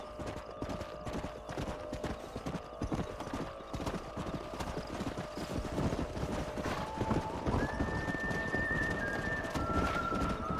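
Horse hooves clip-clop in a steady rhythm in Red Dead Redemption, a continuous moderate trot heard throughout with faint ambient tones rising near the end.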